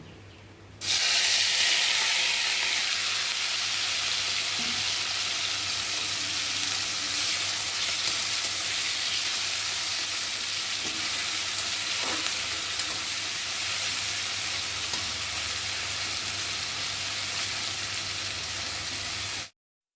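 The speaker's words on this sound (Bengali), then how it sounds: "এখন আমি চিংড়ি মাছগুলোকে দিয়ে প্রথমে ভেজে নেব" Shrimp fry in hot oil in a wok, a loud, even, hissing sizzle starting abruptly and holding steady throughout with a faint low hum beneath and no talk.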